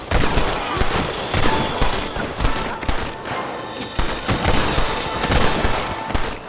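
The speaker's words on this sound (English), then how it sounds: "They're shooting down on us!" Gunfire rains down from a cliff top in a Red Dead Redemption shootout: loud, rapid, overlapping rifle and pistol shots crack in steady bursts throughout, close and relentless.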